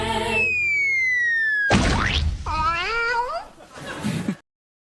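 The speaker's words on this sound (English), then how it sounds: "Let's go get the kitty" A cat meows and caterwauls up close in a few drawn-out, wavering cries, preceded by a steady electronic tone sweep and a thump, ending abruptly in silence.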